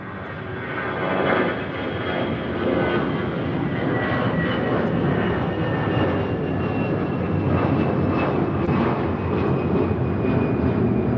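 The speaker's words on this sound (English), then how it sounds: "This is Delta Airlines 521 taking off to Dallas-Fort Worth on an A320." Delta Airlines flight 521, an Airbus A320, takes off from LAX bound for Dallas-Fort Worth, its jet engines building into a strong, sustained roar that stays fairly near and steady, with no talking over it.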